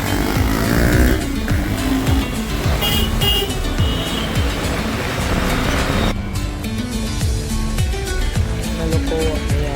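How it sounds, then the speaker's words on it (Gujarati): A group of KTM Duke motorcycles, including Duke 390 and Duke 200 models, rev and pull away together near a showroom, with loud overlapping engine roars and revving throughout. "આ છે KTM શોરૂમ, અને આ છે આપણી આજની બધી બાઇક્સ"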